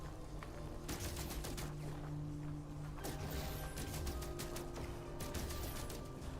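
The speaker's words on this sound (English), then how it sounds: "When I shoot it... I noticed that it was a burst kind of mode for 5 bullets a pop or something." Burst-fire gunshots from a rifle in No Man's Sky, an automatic weapon firing roughly five rounds per pull from a 64-round magazine; sharp repeated cracks come in clusters over a steady hum of game ambience.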